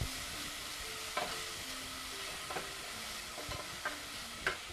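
Onions being stirred in a pan for a white sauce, a faint continuous sizzle broken by several light spatula scrapes at irregular intervals, close and without voices.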